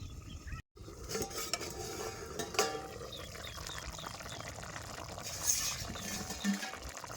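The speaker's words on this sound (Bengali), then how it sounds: "এবার ঢাকনাটা সরাই দেখুন কেমন হলো" A lid comes off a pot of small-fish and green tomato curry cooked in village style, bringing a few metallic clinks and clatters over a low simmering hiss, close and moderately quiet, with no voices.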